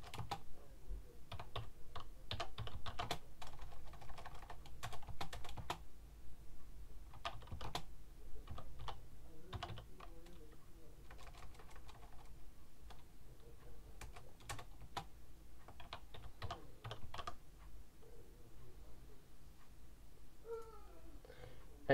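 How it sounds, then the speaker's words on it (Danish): Steady run of keystrokes on a computer keyboard, typing text with irregular bursts of clicks at close range, with a short pause around the middle and faint background hum. "Jeg skriver lige teksten her."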